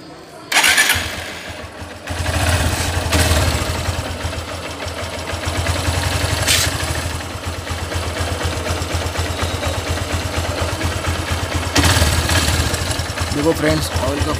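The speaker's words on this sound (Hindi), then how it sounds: "अभी बाइक को स्टार्ट करते हैं।" A 2017 Honda CB Hornet 160R motorcycle, just given an engine flush and fresh 15W-50 synthetic oil, fires up right away and settles into a steady close idle, with a few brief throttle blips.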